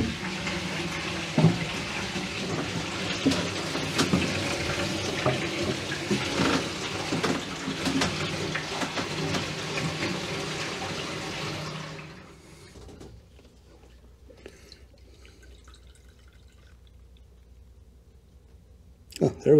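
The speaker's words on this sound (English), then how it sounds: "So, Matt just poured in a couple more gallons of water." Water poured by the gallon into a leaking fuel tank being cut out of a fishing boat, a steady broadband gush lasting about twelve seconds before dropping to a quiet trickle with faint clicks.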